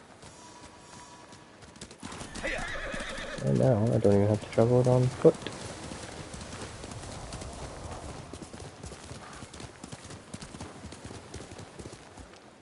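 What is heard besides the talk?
horse galloping and neighing in video game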